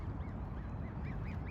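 Ducks from a large black duck family with five ducklings out walking give repeated nasal honking quacks, fairly close and steady over outdoor background noise, with no talk.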